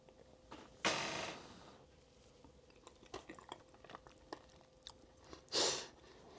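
Someone chews a camp meal of cream of mushroom soup mixed with ground beef, soft close mouth sounds and small crunches between a couple of louder rustling bursts, quiet and with no talking.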